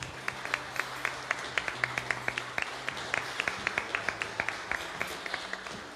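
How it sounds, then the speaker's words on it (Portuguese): A church congregation at a worship service applauding, rhythmic claps in a steady beat joined by a broad wash of clapping hands, sustained and moderately loud in a reverberant hall. "Aplauda o Senhor, irmãos."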